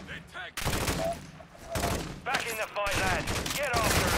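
Video game shootout with bursts of automatic gunfire, loud and close, firing in several sustained volleys broken by short gaps, while voices and whistling effects sound underneath.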